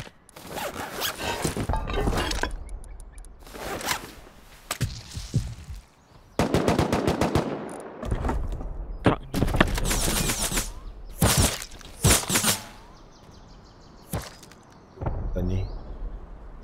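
Suppressed gunfire in the survival game Atlas, with bursts of muffled shots and impacts scattered across the scene, mixed with in-game noise and intermittent talk.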